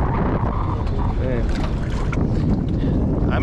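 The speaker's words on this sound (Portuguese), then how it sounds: "Vento agora, final da tarde, acabou com nós, ó. Tá ventando com força." Strong late-afternoon wind buffets the microphone at a riverside fishing camp, a loud, constant roaring rush with gusty rumble and water noise that lasts throughout.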